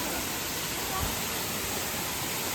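Waterfall near a Sabarimala pilgrimage route, heard as a dense, steady roar of rushing water filling the whole clip, close and continuous.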